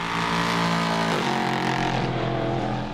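Race cars at a Road to Le Mans endurance round, including the United car, roar past close together with loud engine drone and a shift in pitch as one car passes another, no talk.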